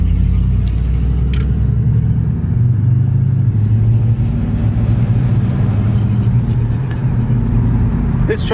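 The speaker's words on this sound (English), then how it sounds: "This truck sounds like it's gonna break down." Truck engine rumbling heavily while driving, a loud, close low-pitched drone with shifting revs and a few faint clicks over about eight seconds.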